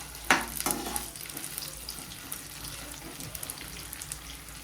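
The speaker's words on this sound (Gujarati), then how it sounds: "તો તેલ ગરમ થઈ ગયું છે, આપણે ભીંડા એડ કરીશું, તેને સારી રીતે ફ્રાય કરી લઈશું" Okra dropped into hot oil over a high flame bursts into a loud, sharp crackle, then settles into a steady close sizzle with occasional pops and faint stirring scrapes.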